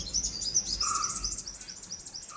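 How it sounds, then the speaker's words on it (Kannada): Several small birds give high, thin chirping calls in quick, repeated bursts, faint and somewhat distant outdoors, with no talking. "ಪಾಪ ಹಕ್ಕಿಗಳೆಲ್ಲ ಕೂಗ್ತಾ ಇದೆ."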